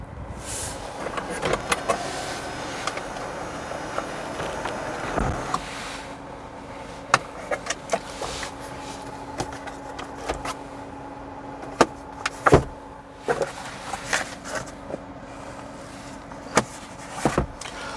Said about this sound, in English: You got your one touch power moonroof. It's going to open, close, all that good stuff.